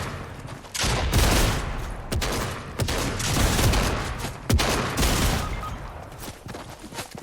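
Video-game shotgun fire in a chaotic fight: loud, dense bursts of blasts and booming shots rattling almost continuously, with a few sharp separate cracks standing out.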